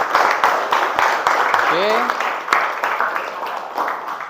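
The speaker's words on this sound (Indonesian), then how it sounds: "Mari kita sekali lagi kita tepuk tangan untuk hari ini" A class of schoolchildren clapping hands in a classroom, with steady rhythmic claps mixed with a teacher's voice and children's chatter over them.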